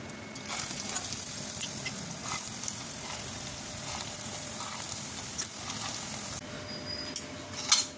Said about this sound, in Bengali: এই দেখো বড়াগুলো ভেজে নিয়েছি